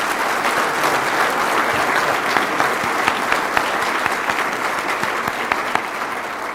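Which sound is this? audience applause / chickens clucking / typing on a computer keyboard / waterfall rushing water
audience applause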